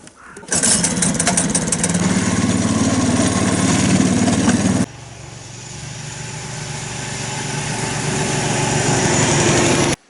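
A small engine revs loudly and steadily, then drops to a lower drone that slowly builds again, like a snowmobile running close by.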